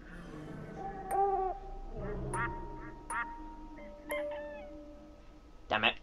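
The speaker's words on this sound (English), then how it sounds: "it's quack, hoot, squack, quack, cluck" Animal calls from a puzzle in the video game Silent Hill Shattered Memories, a sequence of separate quacks, hoots, a squawk and a cluck sounding one after another at moderate volume, with a voice speaking faintly underneath.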